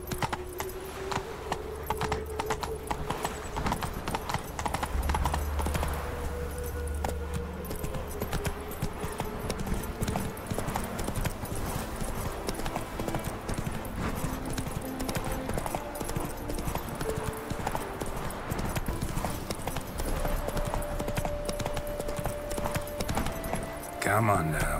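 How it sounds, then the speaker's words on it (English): Hoofbeats of the horse Roach clip-clop steadily at a gallop in The Witcher 3, a fast continuous rhythm running under game music and ambience, with a voice speaking briefly over it. "That's it, Roach"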